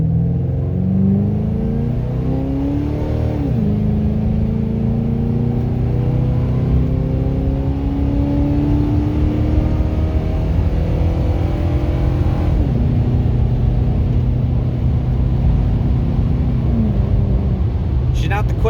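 A 2007 Ford Crown Victoria P71 accelerates hard, its exhaust rising in a loud climbing roar through several gear changes with brief dips between shifts, heard up close from inside the car.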